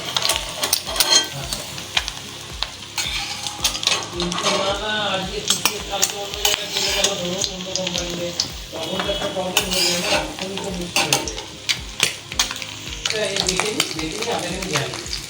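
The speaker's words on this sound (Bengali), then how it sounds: "বাকি ডিমগুলো এইভাবে ভেজে নেব" Eggs fry in a pan with a steady, loud sizzle that runs throughout, joined by frequent clinks and scrapes of a utensil against the pan and occasional faint voice in the background.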